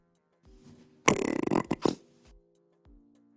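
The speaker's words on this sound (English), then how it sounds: "It's like he burped" A loud, rough burp lasting about a second, close to the mic, with a short stuttering tail and quiet room noise around it.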